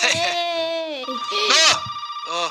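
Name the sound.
telephone ringing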